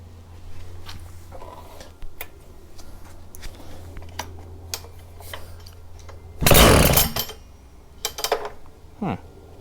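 A Makita EK7301 power cutter's engine, due for a tune-up, fires in one brief loud burst amid scattered clicks and handling knocks, then falls back to quiet.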